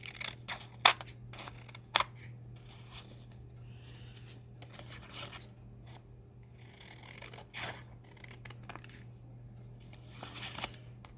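Scissors trimming craft paper journal cards, a quiet sequence of sparse snips and rustling paper handling with a couple of sharper cuts, over a faint steady hum and no talking.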